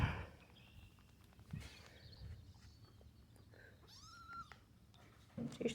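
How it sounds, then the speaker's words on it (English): A cat meows while being held by someone filming on a farm, with short rising mews in the middle of the clip over low rustling, handling noise and faint voices. "I'm holding a cat while I'm filming"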